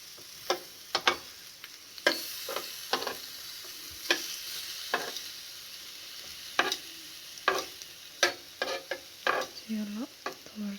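Food frying and browning in a pan for a focaccia recipe, with a steady sizzle under frequent sharp clicks and taps of a utensil stirring and turning pieces, fairly close and moderate in level, no talking.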